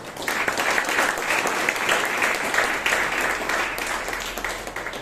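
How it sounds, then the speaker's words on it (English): Steady, full round of audience applause at a Toastmasters meeting in Bangalore, dense clapping sustained throughout at even volume. "Give her a big round of applause."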